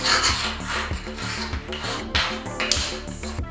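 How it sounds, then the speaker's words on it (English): Wooden rifle grips from an LCT RPD, real Russian wood, rasp and scrape across concrete in a steady back-and-forth rhythm, loud and close, with no talking. "just take them and rub them on the concrete"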